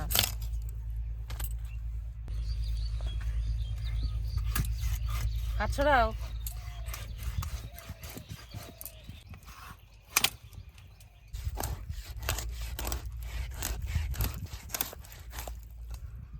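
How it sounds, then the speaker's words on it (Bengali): Pangas fish being cut into pieces on a large boti blade, a series of sharp knocking chops and scraping thuds over a steady low hum, with a gap of quieter handling midway. "এবার মাছটা পিস পিস করে নেব দেখো দেখছো আজকে ছোট বটি হলে আর কাটতে পারতাম না"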